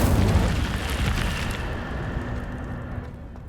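An Incendio fire spell cast in the Hogwarts Legacy video game lets out a loud, rushing burst of flame up front that slowly dies away over a few seconds.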